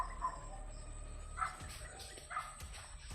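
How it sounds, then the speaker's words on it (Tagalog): Several dogs bark loudly somewhere ahead, at a distance. A few sharp barks and yips rise out of steady outdoor noise, and a faint voice can be heard. "Napakaingay ng mga aso dun sa unahan mga tol."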